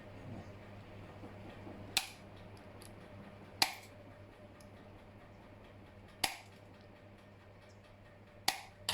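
Tin snips or shears cutting out a sheet-metal gothic gauntlet armour piece: four sharp, separate metallic snips spaced a couple of seconds apart over a low steady hum, with no talking.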